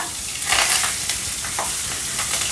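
Curry leaves frying in hot oil with a loud, steady sizzle and brief crackling bursts, close up, alone with no voices.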